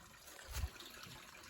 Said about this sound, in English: You can kind of hear some water running